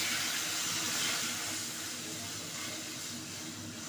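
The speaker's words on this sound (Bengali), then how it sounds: "ভালো করে ভাজা হয়ে গেলে এখন তোমার নারকেলের দুধটা এখন এখানে ছেড়ে দিতে হবে।" Coconut milk poured over spices frying in a pan, with salt, for a Bengali prawn malai curry, gives a steady, bright hissing sizzle that fades slightly over a few seconds, with no voices.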